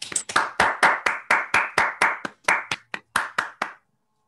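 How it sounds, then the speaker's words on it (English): A single person claps for a speaker at the close of an online physics talk, about sixteen crisp, close claps in a quick steady rhythm that stop abruptly, leaving silence. "give you a round of applause"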